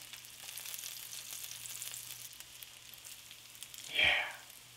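Grilled cheese roll-ups fry gently in butter in a pan with a faint, steady sizzle and soft crackle, then a brief louder burst of sizzling near the end.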